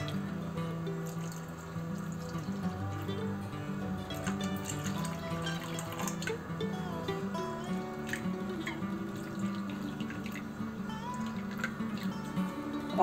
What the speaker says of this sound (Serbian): Vodu ćemo sipati toliko da nam otprilike dođe da prekrije